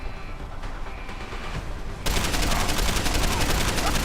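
Rapid blind-fire gunshots in the video game Deus Ex Human Revolution, a dense continuous burst of loud shots that starts abruptly after quieter ambient game sound.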